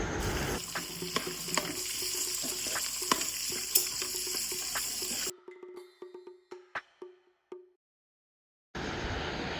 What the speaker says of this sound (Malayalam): നേരത്തെ അരിഞ്ഞു വെച്ചിരിക്കുന്ന സവാള ഇടേണ്ടതാണ്. 1/2 ടേബിൾ സ്പൂൺ ഉപ്പ് ഇട്ട് നല്ലപോലെ വഴറ്റി എടുക്കേണ്ടതാണ്